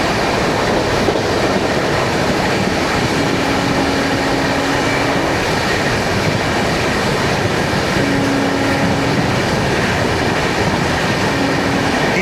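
A 12431 Rajdhani Express runs at high speed, its steady loud rolling roar and rattle filling the whole stretch, with faint wheel squeal or hum appearing briefly, no voices.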